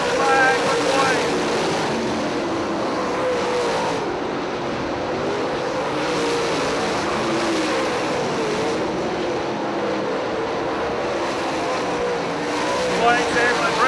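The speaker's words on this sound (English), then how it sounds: "Duane Chamberlain brings it through corner number 3" Late model race cars at Eldora Speedway, a dirt oval in Rossburg, Ohio, roar steadily and loudly through the turns, a continuous engine drone with an announcer talking over it.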